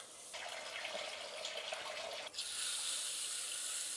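Running tap water pours over moong dal being rinsed in a bowl, a steady close wash that shifts to a brighter, fuller gush partway through, with no talking.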